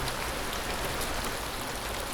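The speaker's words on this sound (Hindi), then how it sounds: "बारिश की बूंदें और ये धाराएं और ये कलकलाहट" Rain falls steadily on a valley trail in Bhandardhara near a flowing stream, making an even, close hiss of drops and running water with no break.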